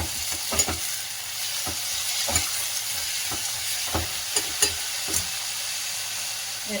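Fenugreek leaves frying in a pan with a steady soft sizzle, broken by irregular scraping and tapping as a spoon stirs them, fairly close and quiet with no talking.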